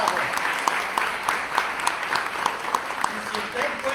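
An audience at a book presentation in San Germán applauds an author, brisk scattered clapping with sharp individual claps standing out, moderately loud and continuous for several seconds.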